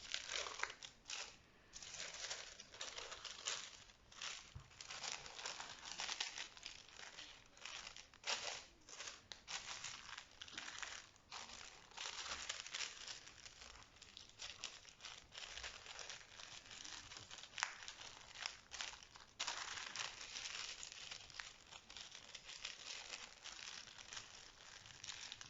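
Tissue paper crumpled and folded by hand while wrapping a gift package, a continuous close crinkling and rustling with sharp crackles throughout, no voice over it.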